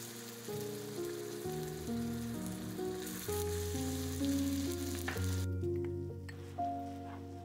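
Garlic and shallot paste for Thai pad mee korat fries with a soft, steady sizzle that stays low under a melodic music track.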